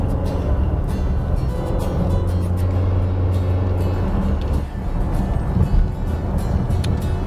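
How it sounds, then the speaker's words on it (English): A Fisker Karma plug-in hybrid's engine drones loudly and steadily, its low humming tone rising slightly in pitch midway, heard from inside the vehicle. "this engine in this capacity is just loud in an unattractive way"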